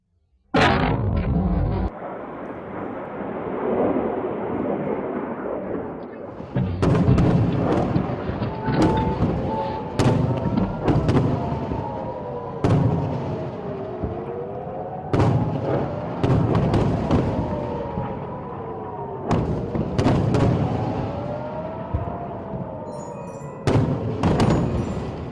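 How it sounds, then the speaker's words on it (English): Rockets fired by Hezbollah at Israel and intercepted by the Iron Dome system, a sharp blast followed by a dense sequence of booms, crackles and thuds over a long rolling roar, heard at a distance with wailing sirens rising and falling underneath. "They have fired around 200 rockets at Israel. Most of them were intercepted by the Iron Dome system."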